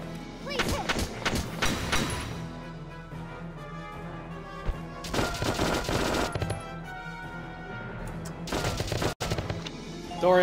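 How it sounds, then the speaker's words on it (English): Gunfire from the video game Valkyria Chronicles Remastered comes in several loud bursts of rapid shots and cracking impacts, separated by brief lulls, with a dense, busy in-game sound bed throughout. "Watch out for gunfire."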